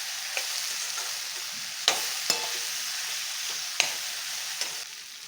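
Okra masala sizzling steadily in a pan for dhaba-style bendekayi gravy, with a few sharp scrapes and clicks as a spoon stirs, close and with no talking.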